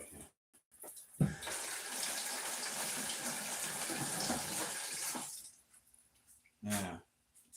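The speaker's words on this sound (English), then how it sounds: "Just rinse them off. Give them a good rinse down." Water runs from a tap for several seconds while vegetables are rinsed for canning, a steady hissing splash with short gaps and bursts before and after, and a person speaking quietly nearby.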